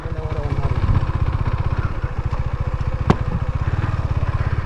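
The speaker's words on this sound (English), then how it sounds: "you just seen that bike is skidding left and right" A motorcycle engine thumps in a steady, fast rhythmic pulse while riding a dirt road, loud and close throughout with a brief sharp knock midway.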